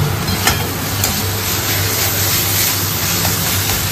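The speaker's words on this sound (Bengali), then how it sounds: "বাড়িতে বানানো ধনের গুঁড়ো দিয়ে এখন মশলাটা ভালো করে কষানো হবে" Masala fries in a pan with homemade coriander powder while being stirred, giving a close, dense continuous sizzle with a few soft scrapes and no voices.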